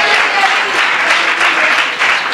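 A church congregation applauding during a sermon, with dense, steady clapping filling the room for a couple of seconds.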